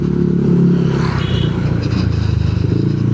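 A motorcycle engine with a manual idle-speed control runs unevenly and sputters. It keeps up a loud, rough, continuous idle close by for several seconds, with no talking over it.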